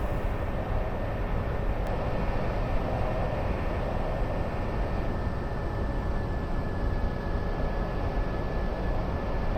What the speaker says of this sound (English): the aircraft should start rolling